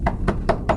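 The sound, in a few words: soft knock on a door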